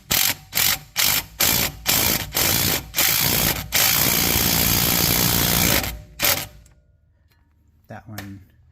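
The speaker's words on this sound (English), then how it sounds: "Full tight with the impact driver." An impact driver tightens a strut bolt on a 2018 Ford Fusion, first in a rapid series of short hammering bursts, then one long continuous rattling run that stops abruptly, followed by a brief softer buzz.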